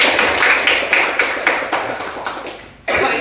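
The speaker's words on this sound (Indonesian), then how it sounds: "Iya, tepuk tangan." A class of students clapping hands in a classroom, a loud, steady run of claps that stops abruptly near the end before a short burst resumes.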